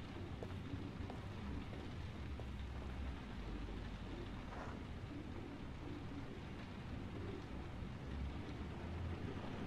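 Steady rain in the video game Heavy Rain hisses as an even, continuous wash with a low rumble underneath, holding constant throughout with no talk.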